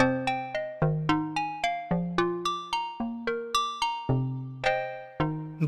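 Bell-like patch on a Roland PG-8X synthesizer, a run of about fourteen bright, chiming notes in a melodic sequence, each striking sharply and decaying with a shimmering chorus tail, played alone with no voices.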